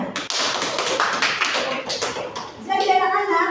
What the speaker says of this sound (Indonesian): Tepuk tangan dulu untuk mereka bertiga.